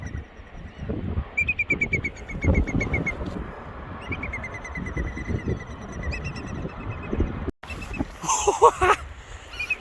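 Birds calling near a nest on a ridge trail by a waterfall in Seydisfjordur, Iceland, repeated high chirps and calls over windy outdoor rumble, fairly close, with a brief burst of louder calls near the end.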